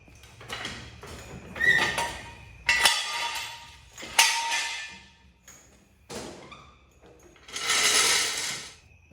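A bike chain is tightened back up, producing bursts of ratcheting and clicking from tools and mechanical parts separated by short pauses, with a longer rough grinding stretch near the end, close up and without speech.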